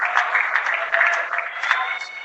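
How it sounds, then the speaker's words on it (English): Home crowd at a Fort Morgan boys basketball game against Weld Central gives a warm ovation as player Anderson leaves the court; steady applause and cheering fills the gym while a commentator talks over it. "Anderson's going to come out for a nice ovation here from the home team"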